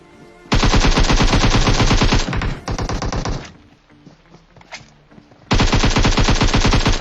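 Rapid bursts of automatic gunfire in the PUBG Mobile video game, loud and close, with a sustained volley, a brief gap, a second burst, a quiet stretch, then another long burst.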